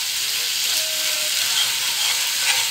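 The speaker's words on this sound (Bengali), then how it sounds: "এটা এখন একসঙ্গে কষিয়ে নেব ভালো করে" Egg korma masala with salt and Kashmiri chili powder is fried and stirred in a pan, giving a loud, even, hissing sizzle that carries on without a break and with no talk.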